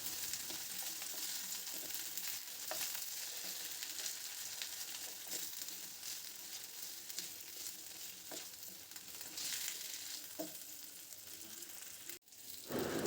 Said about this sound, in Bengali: এবার কেটে রাখা কলাগুলো তেলের মধ্যে দিয়ে দিলাম। হালকা একটু ভেজে নেব কলাগুলো।